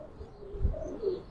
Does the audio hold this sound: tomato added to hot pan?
no